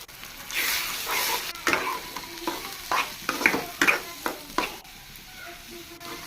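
Eggs frying in a pan with sautéed babori greens, a steady sizzle broken by repeated scraping stirs of a spatula, close and moderately loud with no talking.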